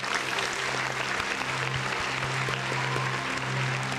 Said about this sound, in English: We gotta give a round of applause to the people in the chat